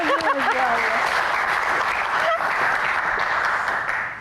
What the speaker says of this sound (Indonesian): Tepuk tangan buat Gian, spesialis fact check kita.